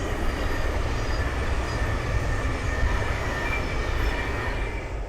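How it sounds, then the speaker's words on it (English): A Thameslink Class 700 electric train passes on the Midland Main Line at Ayres End Lane, a loud, steady rolling rumble of wheels and wagons that fills the whole stretch without a break. "the next train to pass by is a Thameslink 700"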